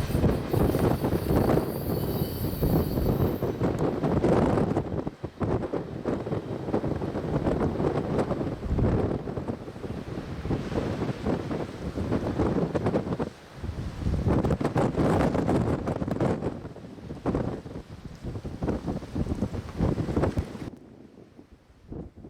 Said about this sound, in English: With camera batteries nearly dead and constant wind hitting us, we decided to call it a day and head home.